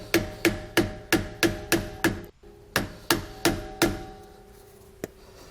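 Sharp metal-on-metal hammer taps strike a flathead screwdriver prying off a trailer wheel grease cap in a steady rhythm, about a dozen blows with a brief pause midway, close and loud.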